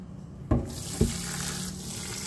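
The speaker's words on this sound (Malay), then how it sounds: "Cuci dan bersihkan beras" Rice is washed in a sink under a running tap. Water streams steadily throughout, with two brief splashing knocks as the grains are handled.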